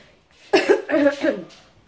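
A person coughs a few times in quick succession, close and fairly loud, with quiet moments before and after.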